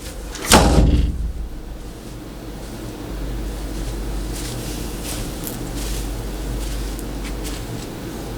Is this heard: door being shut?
yes